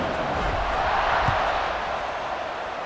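Stadium crowd roar at kickoff in the College Football 26 video game, a broad, steady wash of cheering that swells slightly and holds throughout.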